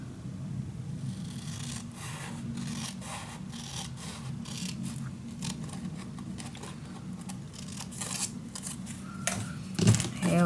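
Paper being cut by hand for a moody burgundy scrapbook mini album, a series of soft scissor snips and rubbing rasps in a steady rhythm, close and fairly quiet, with no talking.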